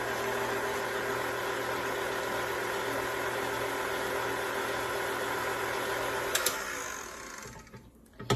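An electric mixer whirs at a steady hum, spinning sourdough pizza dough with half the flour added, a constant motor drone that winds down and stops near the end.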